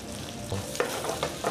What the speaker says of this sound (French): On va faire chauffer une poêle avec un bon morceau de beurre, bien à plat dans la poêle.